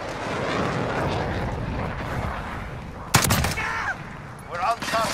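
Gunfire in Call of Duty on the Shipment map: a steady crackle of distant shots under constant battle noise, then a louder close burst and a couple of later bursts.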